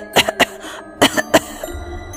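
Two close, loud bursts of harsh coughing, each made of a few rapid hacks, followed by a faint throat clearing.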